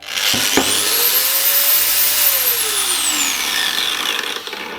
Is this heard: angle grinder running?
yes